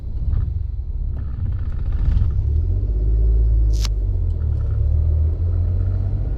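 A car pulls away uphill in a driving lesson, its engine giving a low steady rumble that swells through the middle, with a brief sharp squeak partway through.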